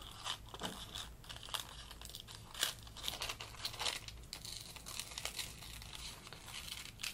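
Patterned tissue paper crinkles and crunches close up as it is trimmed around a glued decoupage heart on a blank, with dense irregular rustling and small snips throughout and no voice.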